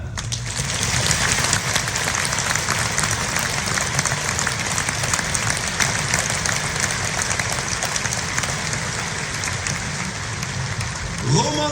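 A concert audience applauds continuously for a pianist at a film music evening, a dense, even wash of clapping that holds steady from start to finish.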